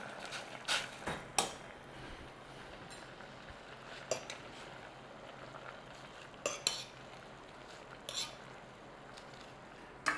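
Packet noodles are broken up and stirred in a pot on the stove, giving scattered clinks and scrapes of a utensil against the pot over a steady low simmer, with no voices.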